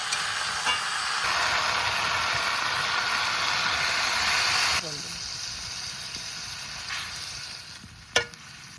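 Malabar spinach fries in a pan with a loud, steady sizzle that drops abruptly to a quieter bubbling hiss once a little water goes in, and a sharp clink rings out near the end.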